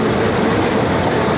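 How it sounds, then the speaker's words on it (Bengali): A train engine is coupled onto the front of its carriages at a railway station, making a loud, continuous rail rumble with a steady clatter and no pauses. "চলে আসলো ইঞ্জিন, ইতোমধ্যে ইঞ্জিন সেট হয়ে যাবে এই ট্রেনের বগির মাথায়।"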